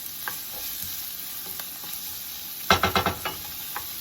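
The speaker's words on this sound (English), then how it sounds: "we're going to go in and start out by sauteing our onions that are nicely diced" Diced onions sauté in a pan over medium-high heat, a faint steady sizzle broken by a burst of quick stirring scrapes near the middle, with a few scattered clinks.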